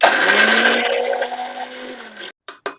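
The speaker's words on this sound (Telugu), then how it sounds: "మిక్సీ ఆడుకుందామండి." A mixer grinder grinding drumstick leaves with salt whirs loudly and steadily with a high motor whine, then cuts off, followed by two short bursts of grinding.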